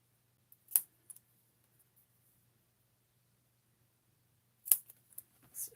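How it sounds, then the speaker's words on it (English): Small scissors snip paper edges in two separate bursts, a quick pair of cuts early and then a cluster of sharp snips after a pause, close and fairly quiet with no talking. "My little scissors here."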